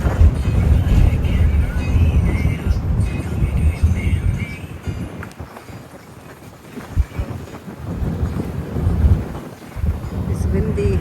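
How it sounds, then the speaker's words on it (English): Strong wind batters the microphone at the Nuuanu Pali Lookout, heavy gusty rumbling that dips briefly and surges again, with people talking faintly beneath it. "It's windy, huh?"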